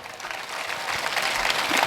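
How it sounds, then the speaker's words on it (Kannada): Crowd clapping at a Kannada spiritual discourse gathering: a continuous broadband patter of many hands that swells slightly louder toward the end, with no talk over it. "ಅವನಿಗೂ ಜೋರು ಚಪ್ಪಾಳೆ ತಡ್ರಿ."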